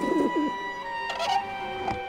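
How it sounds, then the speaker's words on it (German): Pigeons coo in the Grim Fandango video game, two or three soft, low burbling calls rising over a steady humming background tone, with no talking. "Wir haben hier überall Tauben."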